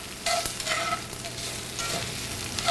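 Sugar caramelizing and browning in a pan for canh chua, a soft steady sizzle with occasional stirring scrapes, close and fairly quiet, no talking.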